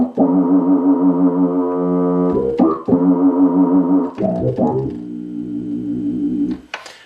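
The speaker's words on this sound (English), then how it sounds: "That's a big sub bass." A deep, sustained sub bass tone from a Minimoog Voyager analog synthesizer with rich harmonics, held in long notes that shift pitch a few times, loud and close with no other sounds.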